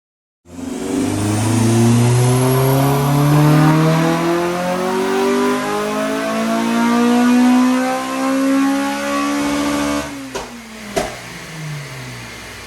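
A Honda Civic Type R fitted with a Dynodaze induction kit revs hard on a dyno, its engine climbing loud and steady through a long pull before dropping off, followed by a couple of sharp pops.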